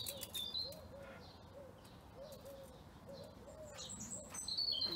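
Small birds chirp and tweet in short high bursts against a soft, steady outdoor background, fairly distant and quiet.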